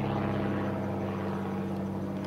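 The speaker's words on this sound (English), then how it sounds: "This is a 1970 example of that airplane." A 1970 biplane at the Old Rhinebeck Aerodrome airshow drones steadily overhead, its propeller engine giving a continuous, fairly loud, even hum with no talk.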